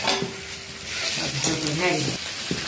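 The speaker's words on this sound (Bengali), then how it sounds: "আদা রসুন বাটা এগুলো একটু ভাজা ভাজা হয়ে আসছে।" Ginger garlic paste fries with browned onions, green chilies and garam masala in a pan for a layer chicken and potato curry, a loud sizzle with scraping stirring strokes and a faint clink of the utensil.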